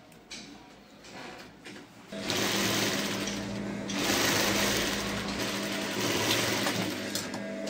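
Sewing machine stitching a joint seam on a kurti, starting faint and then running steadily and loudly for several seconds in a continuous mechanical whir.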